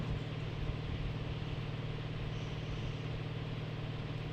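An in-game car engine idles in a battle royale match, a low, steady hum with a faint rhythmic pulse that holds at an even, quiet level throughout.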